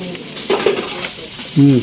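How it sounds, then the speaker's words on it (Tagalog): Steady broadband sizzle of food frying in a pan, with a few utensil stirs and a brief voice-like tone near the end. "Prito pa. Yan, prito."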